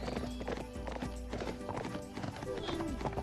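In the Barbie Wild Horse Rescue video game, a horse's hooves clip-clop in a quick, even rhythm close up, with a brief whinny near the end and a person talking over the hoofbeats.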